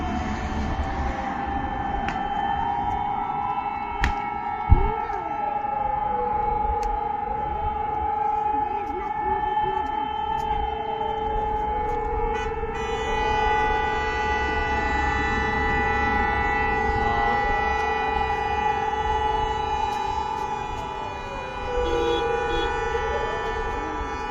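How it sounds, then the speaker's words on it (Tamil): A long, wailing civil defense siren in Warsaw rises and falls repeatedly over a steady hum, sustained and loud, with a few sharp knocks early on. "அந்த சைரன் கேட்ட உடனே வந்து ஹோல் சிட்டியே வந்து அப்படியே ஃப்ரீஸாக ஸ்டாப் ஆகிடணும்"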